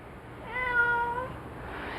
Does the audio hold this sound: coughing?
no